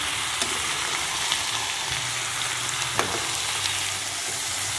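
Chicken adobo ingredients sizzle and fry steadily in a pan, a continuous close hiss with occasional stirring clicks and no talking.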